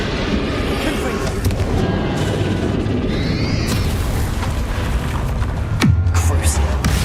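A Confringo explosion spell goes off in the video game Hogwarts Legacy with a loud booming blast and rumbling, mixed with other game effects and a low tonal swoop near the end.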